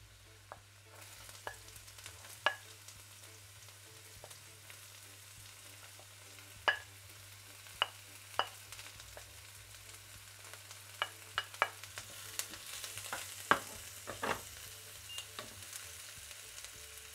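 Onion frying in a pan for Bangladeshi macher jhol, a soft steady sizzle with scattered sharp clicks and scrapes of stirring, close and alone.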